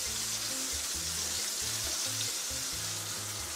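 Sandwich filling fries in a pan as it is stirred, a soft, continuous sizzle heard under background music.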